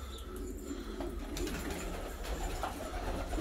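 Pigeons in a loft coo softly and repeatedly under a steady background hum. A few brief flutters of wings come through at close range.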